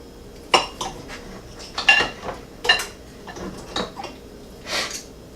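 Knife and fork clinking against a plate while a piece is cut from a grilled ribeye steak, several sharp metallic taps and scrapes spaced irregularly, close and fairly clear.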